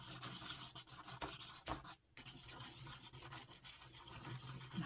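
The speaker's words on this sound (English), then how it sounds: "Changing how you hold your tool, and it's just really fun scratching into it." A tool scratches lines into painted collage paper, giving quiet, close, rasping strokes in irregular bursts with a brief pause midway.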